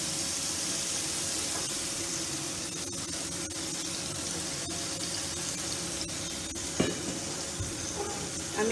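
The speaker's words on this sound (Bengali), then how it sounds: "মশলাটা আমি কষবো ততক্ষণ যতক্ষণ না তেল বেরোয়।" Spice paste sizzles and fries steadily in hot oil in a pan for a vegetarian pointed gourd dish, a close, continuous crackle with occasional stirring scrapes.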